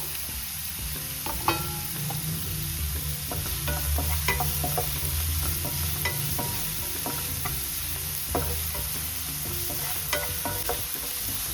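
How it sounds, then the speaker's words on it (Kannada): Onions with a little salt fry in a pan for a homemade snake gourd kootu, giving a steady close sizzle broken by scattered scrapes and clicks of a spoon stirring, with no talking. "ಈರುಳ್ಳಿ ಚೆನ್ನಾಗಿ ಫ್ರೈ ಆಗಬೇಕು."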